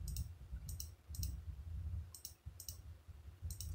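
Mouse clicks in an image editor during face retouching come in short, crisp bursts, about six separate clicks spaced unevenly, alone over a low background hum.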